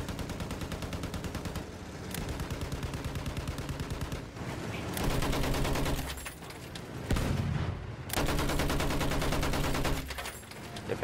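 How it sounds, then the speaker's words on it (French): Dense gunfire from a nearby player in the World War I shooter Battlefield 1, with sustained bursts and rattling volleys that swell louder in the middle and near the end, running almost continuously over a busy battlefield mix. "c'est le mec qui tire à côté"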